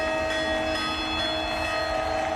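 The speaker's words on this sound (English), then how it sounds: "Pravin Kumar ringing the bell." A bell struck by para athlete Pravin Kumar, men's high jump T64 Paralympic champion, rings with steady sustained metallic tones over a dense stadium crowd murmur.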